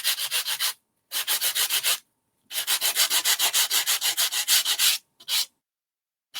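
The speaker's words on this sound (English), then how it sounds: "make sure you're using a sander that you've got different sides, because you don't want your colors to mix" A sanding block rubs over embossed cardstock in quick rhythmic bursts of scratchy strokes. It is close and crisp, with short silent gaps between the runs of strokes.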